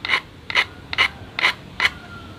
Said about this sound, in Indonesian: kita amplas